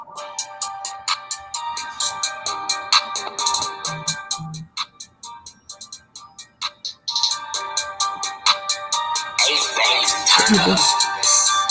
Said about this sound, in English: Let's see if the phone can pick up the beat though.